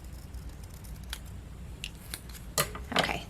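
Scissors trimming card stock for a handmade mini card: several quiet, crisp snips and crunchy cuts, close by, against faint background hum.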